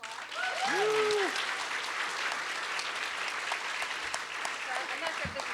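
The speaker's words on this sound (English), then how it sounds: "Can we give him another round of applause?" An audience at a live podcast event applauds in a steady, dense wash of clapping that lasts throughout, with a few voices calling out over the top.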